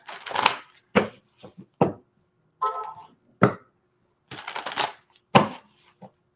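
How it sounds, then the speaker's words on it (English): A deck of tarot cards is shuffled by hand in short crisp riffles and flicks, about ten separate rustling bursts with silent pauses between them, close and clear. "I will shuffle anyway and check this out"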